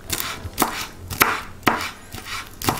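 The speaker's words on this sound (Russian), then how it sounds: "Мелко нарезаем." Knife finely chopping vegetables on a board while cooking Azerbaijani chicken buglama, about six sharp, evenly spaced chops, close and clear.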